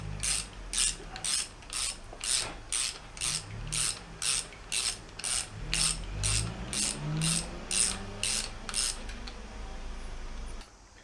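A ratchet wrench tightens the fork cap on a KTM WP Xplor fork, producing about fifteen evenly spaced bursts of crisp clicking pawl strokes, loud and close, with faint low mechanical creaks between them before it stops.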